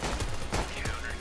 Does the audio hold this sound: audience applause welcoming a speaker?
no